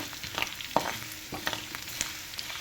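Garlic frying in hot oil for a tempering in a pan for spicy poha, a soft sizzle with a few sharp pops and crackles, quiet and close, with no talk.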